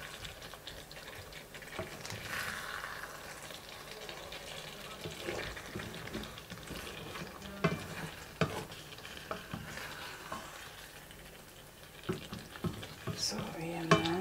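Fish fillet frying in a pan with ginger and spring onion, gently stirred: a steady close sizzle broken by soft scraping and clicking stir strokes, with no talking.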